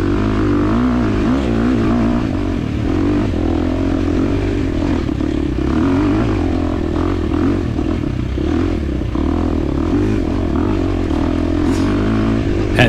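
A 2023 KTM 350 XC-F dirt bike engine labours up a long hare scramble hill climb, loud and close, with a steady droning roar and rattling clatter throughout.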